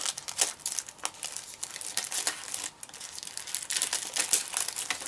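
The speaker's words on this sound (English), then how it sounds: "Got the scissors, let me just open this rather quick." Package from a Doctor Who merchandise box being cut open with scissors, a close run of crinkling, rustling and snipping bursts in quick uneven rhythm, with no talk.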